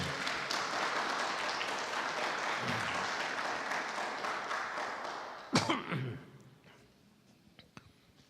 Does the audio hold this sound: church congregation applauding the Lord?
yes